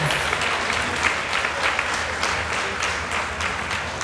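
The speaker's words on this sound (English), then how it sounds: "Yes, give them a round of applause." An audience at an NAACP anniversary celebration and Freedom Fund gala in Long Beach claps steadily in a dense, sustained round of applause that fills the room, with no speech over it.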